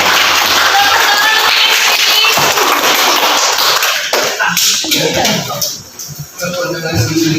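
Schoolchildren clap together in a classroom, loud and close, with children's voices chattering over the clapping as it thins and becomes irregular toward the end.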